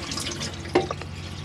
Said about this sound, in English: that your water pump's working, and that water is getting lovely and warm